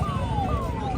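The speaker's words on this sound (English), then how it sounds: "That's a police car." A police car siren sweeps along a road in Delhi, its descending wail repeating twice over steady traffic rumble, fairly close and loud.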